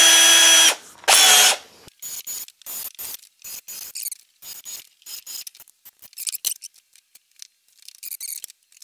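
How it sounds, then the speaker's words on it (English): While building DIY shelving with cross members, a power drill bores all the screw holes in a row. Two long, loud whines come first, followed by many short, close bursts of drilling and spinning. "drill all the holes at once"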